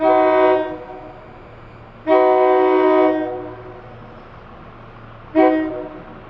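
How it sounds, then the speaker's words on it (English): A SEPTA electric commuter train sounds its horn in three loud, chord-like blasts, the first and second long and the last short, over a low steady rumble of the passing train. "SEPTA train number 538 is running on time on its way to"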